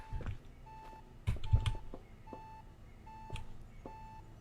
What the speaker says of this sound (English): That beeping is very concerning.